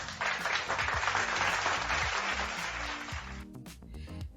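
Canned applause effect played from a MaonoCaster Lite AU-AM200 sound pad: a crowd clapping steadily, then cutting off abruptly near the end as a voice talks briefly over the tail.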